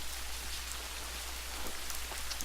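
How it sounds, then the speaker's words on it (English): Steady rain falls on a stream in the video game Dawn of Man, a soft, even hiss of drops pattering on water that runs without pause. "You can see the rain raining in the stream."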